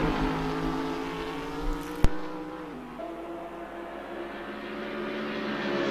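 GT3 race cars at Monza in a racing video game roar steadily with engine drone as they brake into turn 1, with a sharp click midway and the engine pitch shifting.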